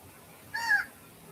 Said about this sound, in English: Listen to the bird.